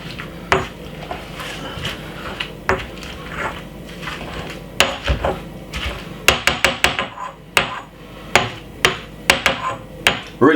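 Garlic mashed with a kitchen tool, a series of sharp, close thuds and clacks, irregular at first and then in quick repeated bursts, loud against a quiet kitchen.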